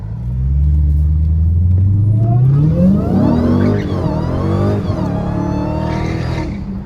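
A Dodge Hellcat roars loud and close as it accelerates hard with its tires spinning, the engine note climbing steadily over a deep rumble with a brief dip mid-pull.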